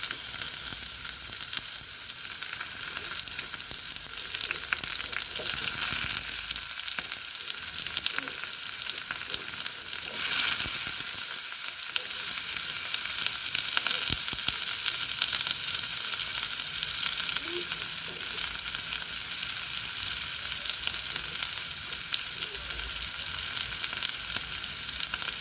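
Two medium onions frying in coconut oil for an egg curry, a continuous steady sizzle held for a long stretch with occasional faint stirs and knocks, no talking.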